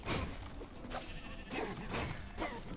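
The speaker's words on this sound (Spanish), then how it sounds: "¿Esa qué es? Oye, esa oveja la quiero yo. ¡Ven aquí, ovejita!" A Minecraft Dungeons sheep bleats several times in a row, a soft, fairly quiet cry repeated in short bursts over a steady game background.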